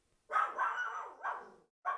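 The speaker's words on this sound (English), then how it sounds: "dog's on high alert." A dog on high alert gives three quick, close barks, the first drawn into a short run, each burst sharp and loud against an otherwise quiet room.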